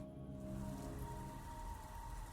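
Steady rain patters evenly across the whole stretch in the horror video game Vlad Circus: Descend Into Madness, with a low droning tone underneath and no voices.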